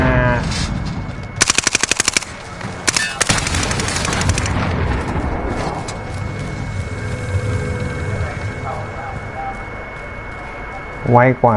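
Rapid bursts of automatic gunfire in an online shooter video game rattle loudly in two clusters, followed by quieter game ambience and a few scattered distant shots, with voices talking underneath.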